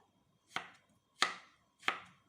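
A knife chops vegetables on a cutting board while making stir-fried yellow noodles, three crisp, evenly spaced chops, close and clear, with quiet in between.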